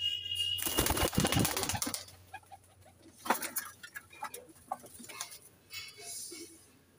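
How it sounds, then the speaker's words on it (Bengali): Soft coos of Madras pigeons and faint bird calls in a quiet loft, with a burst of rustling or flapping at the start and scattered light taps. "সবুজ নট পায়রা।"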